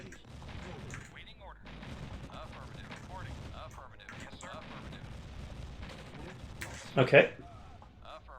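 Airstrike explosions in the strategy game C&C Red Alert, with battle noise and gunfire under continuous talking, then a pair of sharp, loud blasts near the end.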